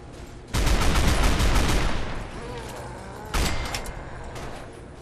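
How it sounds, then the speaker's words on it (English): Heavy machine gun fire in Fallout 3, a dense loud burst of rapid shots lasting over a second, then a second shorter burst after a pause, with game ambience between. "I'm gonna pretend that my heavy machine gun doesn't do anything."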